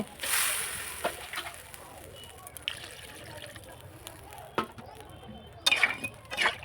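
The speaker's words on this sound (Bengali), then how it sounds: "জল দিয়ে দেব পরিমাণ মতো আমি জল দিয়ে দেব" Water is poured into a village-style fish curry pot with potato and eggplant, splashing and sloshing briefly at the start and again near the end, close by, with a voice talking quietly underneath.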